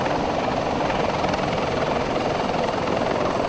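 A military helicopter in a tactical shooter game flies steadily and loudly close by, its rotor thrum and turbine roar dense and unbroken throughout.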